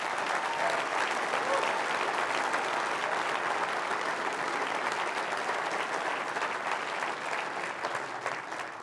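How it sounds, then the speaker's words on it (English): An audience at a provincial government address breaks into sustained, dense applause, with many hands clapping steadily for several seconds before it tapers slightly. "je vous demande de lui donner une bonne main d'applaudissement"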